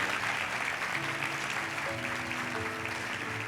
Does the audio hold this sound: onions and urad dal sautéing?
no